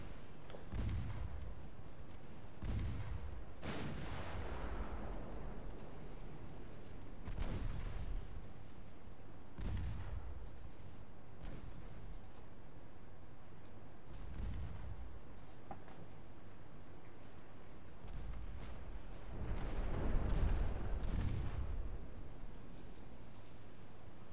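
Naval video game with light cruisers: repeated deep booms of heavy gunfire and exploding ammunition, several spaced blasts with long decaying rumbles, distant and moderate in level over a low background hum.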